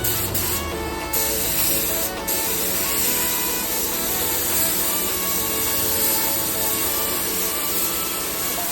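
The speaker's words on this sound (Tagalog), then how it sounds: "itong gamit kong spray gun mga boss, yung antique kong spray gun" Antique spray gun laying down a coat of primer, a steady close airy hiss that runs unbroken for the full length with a couple of brief pulses near the start.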